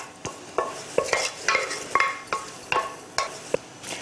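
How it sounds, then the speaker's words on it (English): Thick cheese sauce is scraped from a saucepan into another bowl, giving a series of sharp, regular spoon-on-metal scrapes and taps, close and distinct, with no talking. "So we'll just transfer it into another bowl."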